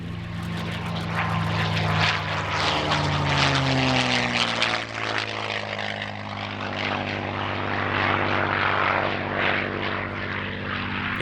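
A post-war P-51 Mustang air racer from the Dakota Territory Air Museum roars close by with a loud, steady piston-engine drone and propeller buzz that shifts pitch slightly as it passes at the EAA AirVenture Oshkosh airshow.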